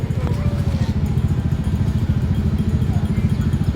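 A motorcycle engine runs close by on a street in Kuala Lumpur, a steady throbbing rumble with a fast, even pulse that dominates the clip under faint background noise.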